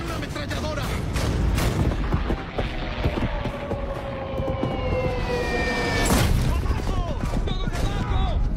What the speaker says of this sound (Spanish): ¡Hay que tomar posición en una ametralladora!